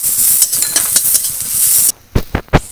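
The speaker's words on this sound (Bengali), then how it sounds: "পেঁয়াজটা একদম ভালো করে ভেজে নেব।" Chopped onion with whole cumin and green chillies frying in a pan, a bright continuous sizzle punctuated by stirring scrapes and clinks, then brief spatula knocks after the hiss drops away.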